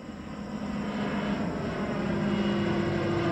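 Low-flying airplane passing overhead near an apple orchard, a broad rumbling engine drone that swells steadily louder over a few seconds with no talk.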